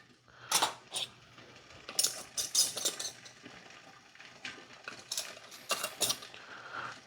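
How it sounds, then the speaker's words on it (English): Metal rings are screwed onto hot glass canning jars of strawberry jam, giving repeated close metallic scraping and ratcheting clicks in short irregular bursts with quiet gaps between them. "we'll go ahead and start throwing some rings on"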